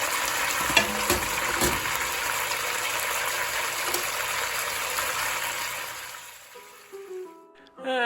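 Marinated chicken sears in a frying pan for coq au vin, a dense, steady close sizzle with occasional pops and stirring that fades out near the end into a brief murmur of voices.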